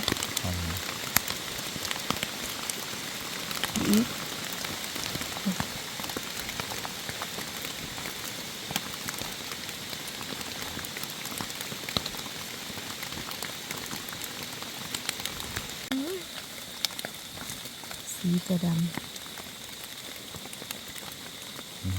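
Rain falls steadily in a forest during mushroom foraging, a constant soft hiss of drops on leaves and surfaces, with a few faint voices in the distance.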